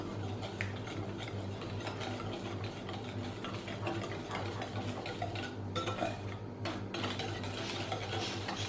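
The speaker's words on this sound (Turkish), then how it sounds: "Şöyle tekrar bir karıştırıyorum" Cookie dough with freshly grated orange peel and squeezed orange juice is stirred in a bowl with a utensil, giving a steady, close scraping and mixing sound with occasional clinks, alone without talk.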